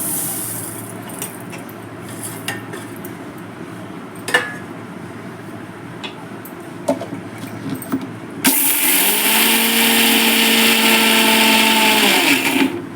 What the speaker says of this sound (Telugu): ఇప్పుడు మనం ఇందులోకి మిక్సీలో వేసుకోవాలి